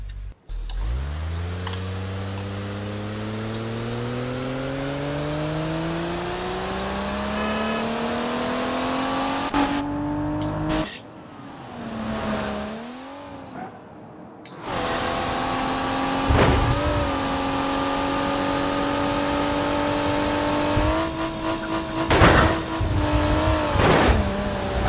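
A 3.0 LX Ibishu Diadem car drives in BeamNG Drive, its engine climbing steadily through the gears with a rising whine, then a brief dip and gap before it revs back up, loud and close with no voices.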